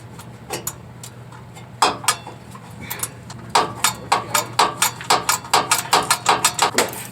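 Ratcheting wrench tightening a bolt on a Honda, a quick series of sharp metallic clicks that speeds into a steady rapid rhythm, close and fairly loud over a low hum.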